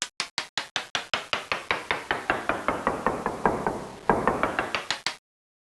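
Pitched drum machine samples run through a bit-crush effect: a rapid sequence of about twenty-five sharp percussive hits, each with a short decaying tail, evenly spaced and fairly loud, alone without voices.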